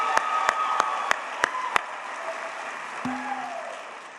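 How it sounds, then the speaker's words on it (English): At a Teacher of the Year celebration, six sharp, evenly spaced claps ring out for an honoured teacher, then stop, leaving a quiet room hum and a brief tonal sound. "Let's give one more round of applause for Miss Bethany Bastido."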